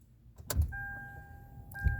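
A key slid into the ignition of a 2016 Hyundai Elantra, two short metallic clicks with a quiet electronic tone sounding in between.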